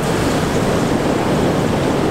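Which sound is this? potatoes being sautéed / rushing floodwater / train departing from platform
rushing floodwater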